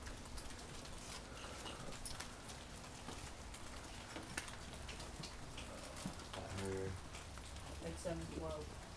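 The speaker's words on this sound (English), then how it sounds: "It's raining." Rain falls steadily outside a porch on a February evening, a constant hiss throughout with a few faint bird or animal calls near the end.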